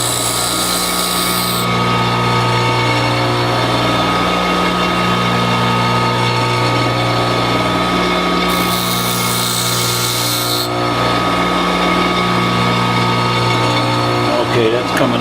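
A power tool runs steadily for the whole stretch, sharpening the outside bevel of a round wood-carving chisel, its constant motor hum broken by bursts of brighter grinding hiss.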